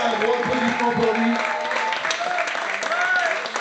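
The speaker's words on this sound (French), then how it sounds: "je voudrais vraiment un gros applaudissement pour lui" An audience at a gathering claps and cheers for Cyril Carnot, a steady wash of applause mixed with raised voices over a few seconds.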